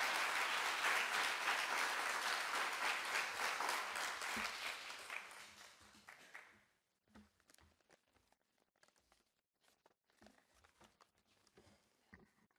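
Audience applause at a diploma ceremony for course graduates, dense sustained clapping for about six seconds that then thins to scattered claps and rustling.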